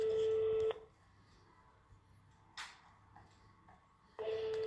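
A telephone rings unanswered indoors: a loud electronic ring at the start, a quiet pause with faint room sounds, then the ring returns.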